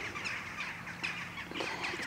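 Crows squabble with a smaller crow-like bird, giving repeated harsh, raspy caws and calls in quick overlapping bursts, moderately close, with no talk over them.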